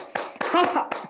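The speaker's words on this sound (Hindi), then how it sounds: "अब ताली बजाएंगे सब" A yoga group claps hands in a few sharp, uneven claps, close and fairly loud, while a voice talks over them.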